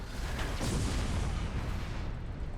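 The Nova Cannon fires in the Battlefleet Gothic Armada 2 space strategy game as a deep, loud, rumbling blast that holds for a couple of seconds before easing off, with no voices.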